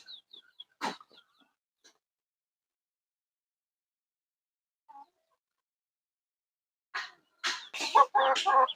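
Chickens and young chicks, about two months old, at a rural yard, give a few short clucks and peeps early on, then near-silence, followed by a burst of louder, close clucking calls at the end.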